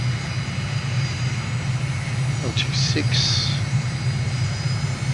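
A steady aircraft engine drones from Microsoft Flight Simulator during a landing approach with gear and flaps down, a constant low hum with a few brief cockpit beeps over it and a voice speaking briefly.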